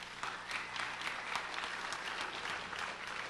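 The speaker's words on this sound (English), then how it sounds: "I do want to ask you to give one more round of applause for our panel and for our moderator" Steady applause from an audience honoring a transit panel and its moderator at a public forum on light rail for Pinellas County, a dense continuous wash of many hands clapping at moderate volume throughout.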